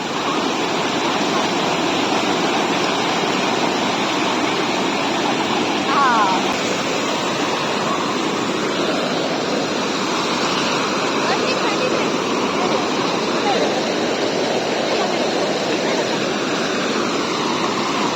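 Water rushing along a stream during an outing, a loud, dense and unbroken roar that holds steady throughout, close by, with no talking heard.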